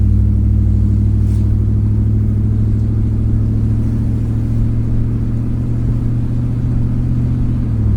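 A car with a junkyard 4L60E automatic transmission accelerating on a test drive: steady loud low engine drone heard from inside, with a slight dip near the end as it shifts gears.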